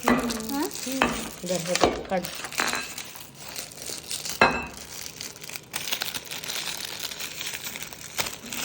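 Gift wrapping paper is pulled off a present that holds a bottle. Close crinkling, crumpling and tearing come in bursts, and people talk over it.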